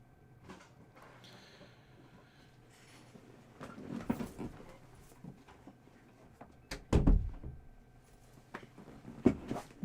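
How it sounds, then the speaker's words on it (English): A door is shut indoors amid scattered handling noises, with one heavier thud near the middle and lighter knocks around it. "just closing the door"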